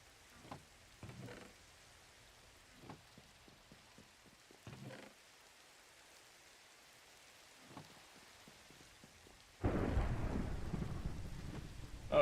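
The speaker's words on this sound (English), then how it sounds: "Oh, thunderstorm." Thunderstorm with rain in a block-building mining and crafting video game: soft patter and scattered low rumbles give way to a loud, steady downpour near the end, with no voices.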